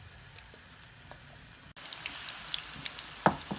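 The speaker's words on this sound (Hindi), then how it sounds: "हमारा कुकिंग ऑयल गर्म हो चुका है। अब इसमें हमने रिंग्स डालेंगे।" Onion rings go into hot cooking oil over a low flame: a faint hiss turns abruptly into a louder, fuller sizzle dotted with scattered pops and crackles.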